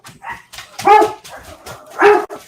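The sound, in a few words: dog barking at the wind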